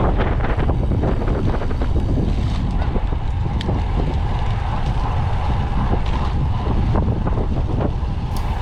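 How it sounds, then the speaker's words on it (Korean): Strong gusting wind batters the microphone during a bicycle ride in the Ganghwa-Gyodong area, a loud continuous low roar with no clear talking. "여기는 갑자기 또 바람도 많이 불고 해서"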